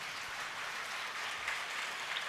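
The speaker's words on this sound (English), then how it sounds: "Let's give a round of applause." Applause at a school feast celebration for St. Ignatius of Loyola, a soft, steady patter of clapping heard from a distance, continuous across the short moment.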